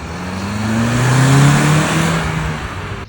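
A car exhaust fitted with a new exhaust tip revs up and eases back in one steady, loud, raspy swell with rising engine tones, close by and with no speech.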